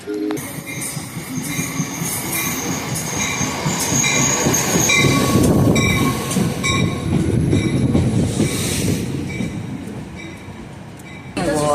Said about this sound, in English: I'm on the train back home now.